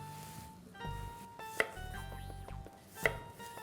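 A knife cuts vegetables into quarters on a chopping board, giving soft slicing scrapes and two sharp board knocks, all quiet and close, with faint kitchen hum behind.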